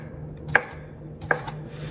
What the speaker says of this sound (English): So now I'm just gonna slice up my smoked sausage